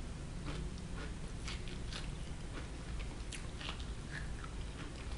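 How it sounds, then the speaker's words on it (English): Close, steady crunching and chewing of potato chips during a sandwich mukbang meal, with repeated crisp bites and munching sounds running continuously over a low background hum. "Can you hear me crunching?"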